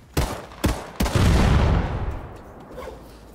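Gunfire from a weapon in a PvPvE shooter game, three sharp separate shots followed by a louder booming blast that rumbles away with a fading tail.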